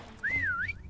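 A player in Call of Duty: WWII Prop Hunt gives one short rising-and-falling whistle, clear and close, alone against quiet game ambience.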